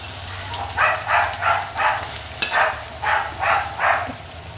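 Bitter gourd coated in masala fries in a little oil, giving a steady close sizzle with about eight rhythmic bursts of louder crackle as it is stirred, one sharp tap partway through, no talking.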